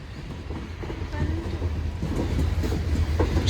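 A Union Pacific train rolls slowly past in Newport, Arkansas, a low rumble with faint wheel clatter building gradually in loudness over a few seconds.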